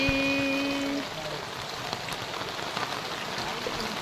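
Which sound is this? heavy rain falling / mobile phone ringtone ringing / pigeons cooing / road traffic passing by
heavy rain falling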